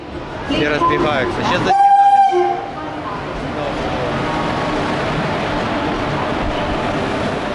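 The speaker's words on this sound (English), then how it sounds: "It's our train, guys." Voices talk briefly, a short horn-like blast sounds, then a steady, broad rumble of an Indian passenger train rolling into a station in Calcutta continues to the end.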